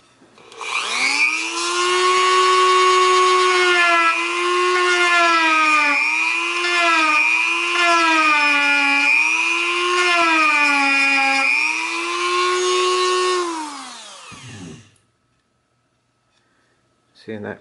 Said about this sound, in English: So I'm going to take my Dremel